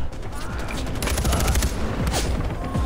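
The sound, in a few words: gunfire in the video game Far Cry 4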